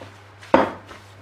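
A spatula or spoon strikes and scrapes through chocolate cake batter as egg whites are folded in, one sharp close knock followed by a soft smear and a faint second scrape, with no talk.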